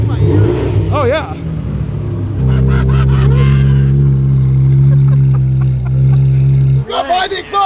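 A Ferrari with an aftermarket IPE exhaust revving at an Italian motoring festival, loud, deep engine rumbling close by, with throaty exhaust roar rising and falling, and voices talking over it.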